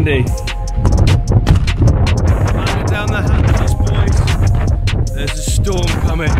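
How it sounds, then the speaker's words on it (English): Strong outdoor wind buffets the microphone ahead of an approaching storm, a loud, uneven low rumble with gusty swells, while someone speaks over it throughout. "Oh, that's windy."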